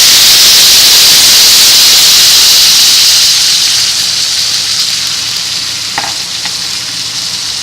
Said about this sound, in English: Going to now add the chicken broth, and it's going to steam up a bit.